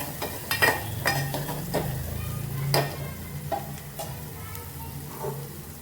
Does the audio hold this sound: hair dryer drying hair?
no